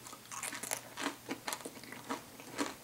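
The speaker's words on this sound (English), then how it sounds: "Crunch of the chips." Tortilla chips dipped in sriracha hummus crunch between the teeth in close, sharp bites, about eight distinct crunches spaced irregularly with quiet chewing between them and no talking.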